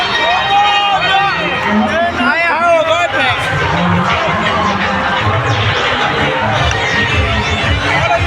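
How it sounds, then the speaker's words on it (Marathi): Dense crowd at the Malegaon fair at night, a steady loud hubbub of many voices with shouting and a wavering tone from a fairground ride or whistle above it, continuous throughout with no pause. "गर्दी खूप आहे"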